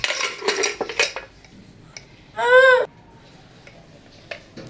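A 12-month-old baby bangs cooking pots and a pressure cooker, making several sharp metallic clanks in quick succession, then a short high squealing burst, with quieter rattles afterward.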